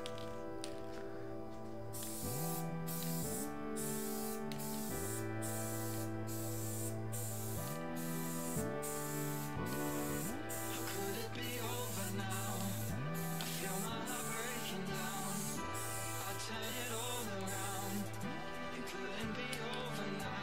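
Spray paint hisses onto a PC case in a series of short, repeated bursts with brief gaps between them, quiet and close, over a steady tonal hum in the background.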